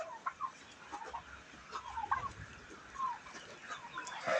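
A flock of chickens at a poultry farm on a family homestead keeps up a steady chorus of clucks and squawks, with overlapping calls at moderate distance and no talking.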